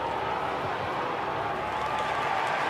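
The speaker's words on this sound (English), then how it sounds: "You could hear the crowd build as they saw the ball coming in." A stadium crowd at an Australian football match between Essendon and Hawthorn swells into a steady, dense roar as the ball comes forward.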